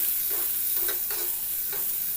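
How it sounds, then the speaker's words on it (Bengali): Chopped onion and red capsicum stir-fry in a pan, a steady sizzle broken by several scraping strokes of a spatula stirring the vegetables. "সমস্তটা ভালোভাবে নেড়ে একটু ভাজা ভাজা করে নিলাম।"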